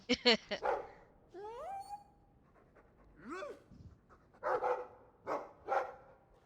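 A dog in a fantasy role-playing video game pants and gives short barks and yips between spoken lines, the sounds coming in brief, separate bursts close by.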